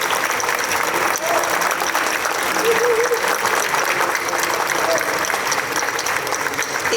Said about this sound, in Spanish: me gustaría que les dieran un merecido aplauso